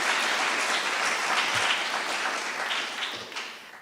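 An audience at a housing charity gala bursts into loud, sustained applause, with dense clapping that stays steady and then gradually begins to thin out toward the end; no voices.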